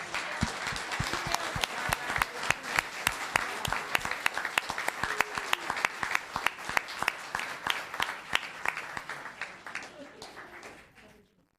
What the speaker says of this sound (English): Let's give a round of applause to this month's small business.